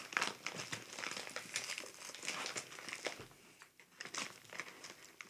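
Plastic or paper packaging holding a PS1 game being cut and torn open up close, a steady run of crinkling and crunching rustles with brief pauses, no voices.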